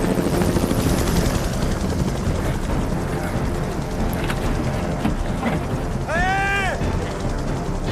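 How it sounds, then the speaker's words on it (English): A helicopter flies over a wilderness crash site in the Rocky Mountains, its steady rotor and engine roar filling the whole stretch, with brief chirping whistle-like tones rising near the end. "The helicopter's come back."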